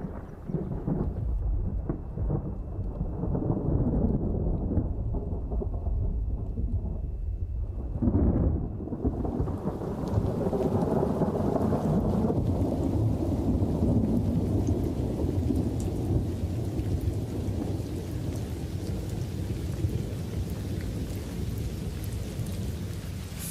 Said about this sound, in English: Finally, rain brings some moisture to the land.